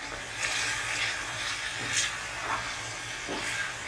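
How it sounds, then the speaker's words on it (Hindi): Mutton and spices roasting in a pan, a steady close hiss and sizzle with soft swells as the pieces are turned. "अब इसमें मैंने मसाले को डाल के ये अच्छी तरीके से आप भून लें।"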